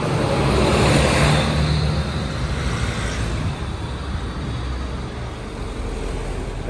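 Road traffic streams past on a wet street in Medjugorje, cars and buses close by, a steady loud hiss of tyres and engines that peaks early and stays dense throughout without speech.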